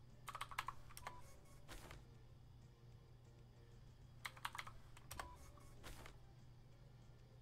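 Rapid bursts of keystrokes on a small computer keyboard with no number pad, clattering in two clusters over a steady low hum, close and fairly quiet.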